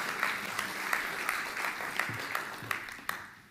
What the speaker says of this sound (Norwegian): La oss klappe for dem en gang til